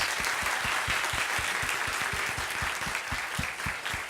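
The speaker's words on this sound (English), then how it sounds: "I think you all deserve a big round of applause." Sustained applause from a large student audience at a school event in Delhi, steady and fairly close, with a few sharp individual claps standing out from the dense clatter and no talk over it.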